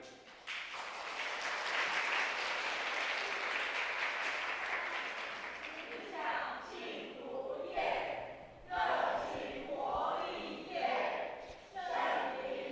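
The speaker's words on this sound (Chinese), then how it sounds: "好，我们拍手开始。" A congregation claps hands together at a Sunday church service, steady dense applause for several seconds that gives way to louder bursts of cheering voices and scattered claps.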